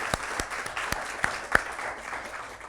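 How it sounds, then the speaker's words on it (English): Scattered claps from an audience at a kids' scouts gathering after a Bible knowledge quiz round, a handful of sharp separate hand claps over a quiet room hum, not a full sustained ovation. "Clap for them."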